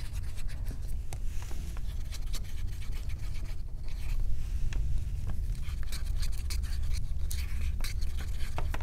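Bottles of white ceramic coat acrylic paint are stirred for a last thorough mix, with a continuous close scraping and scratching and small clicks as the stirrer moves around.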